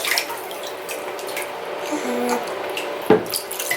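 Bath water sloshes and splashes gently around a small child in a filled tub, with soft drips and one sharper splash near the end, close by and unaccompanied by talk.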